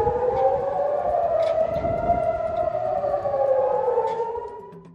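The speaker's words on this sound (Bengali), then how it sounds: "গোষ্ঠীটির হামলার কারণে ইসরায়েল জুড়ে সাইরেন বেজে উঠেছে" An air raid siren wails across Israel during a missile attack, a loud, sustained tone slowly rising and falling, then fading toward the end.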